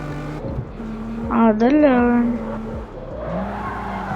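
In the Forza Horizon mobile racing game, a car drifts with a rising, wavering tire squeal over a steady engine drone, loud and up front, as someone talks over it.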